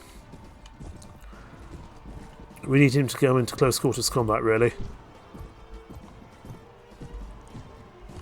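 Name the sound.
horse hooves galloping in Mount and Blade: Warband video game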